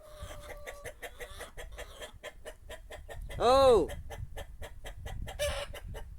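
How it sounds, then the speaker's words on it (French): Hens cluck and squawk in a rapid, noisy chorus around a countryside poultry farm, with one louder rising squawk mid-way, while someone talks over them and briefly exclaims. "les poules autour font un raffut du tonnerre"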